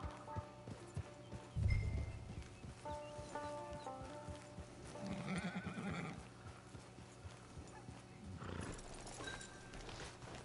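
Horse hooves clip-clop steadily in a video game set on an open range near a camp, with a whinny and other game sounds mixed in, fairly quiet throughout.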